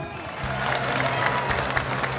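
Crowd applause at a Muay Thai boxing event, a steady wash of clapping and crowd noise throughout, with a faint tone humming underneath.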